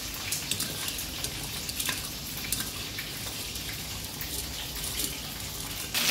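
Water poured into a pan of sugar for pork teriyaki and stirred in, making a faint, continuous watery hiss and sizzle with small scattered clicks, with no talking.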